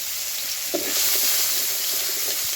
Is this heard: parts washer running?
no